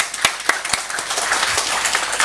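A church congregation clapping together, a dense burst of applause with a few sharper, louder claps standing out, close and lively throughout.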